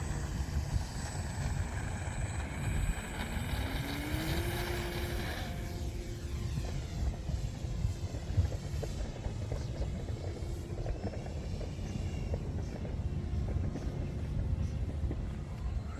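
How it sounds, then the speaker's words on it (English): A small airplane taxiing before takeoff, its engine or propeller giving a steady low droning hum that holds evenly throughout at moderate distance, no talking. "let's just taxi and do another takeoff"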